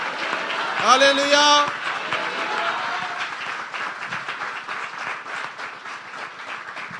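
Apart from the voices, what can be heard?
applause from congregation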